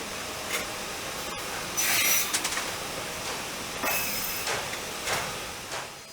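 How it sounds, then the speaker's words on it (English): A stave-making machine works raw wood pieces into wine-barrel staves, giving a steady broadband rubbing, rasping hum with several brief louder scraping bursts, fairly close and with no voices. "The raw wood pieces are placed one after another in a machine, which converts them into clear, yellowish-brown wooden staves."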